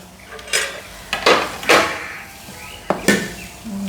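A spoon clinks and scrapes against a bowl as paniyaram batter is mixed with onions. It comes as several close, sharp knocks in uneven bursts, with quieter stirring between them.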